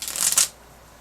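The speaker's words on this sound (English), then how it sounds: "I don't think I shuffled these again." A deck of cards riffle-shuffled up close, a quick crisp fluttering burst lasting about half a second before falling quiet, with no talking.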